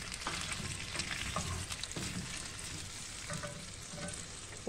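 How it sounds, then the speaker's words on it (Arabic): Potatoes sauté with butter and garlic in a pan, a continuous close sizzle and crackle with occasional stirring scrapes, no voices. "درنا المهم الزبده، درنا الثومه، كنشحروهم شي شويه، كنزيدوا البطاطا ديالنا"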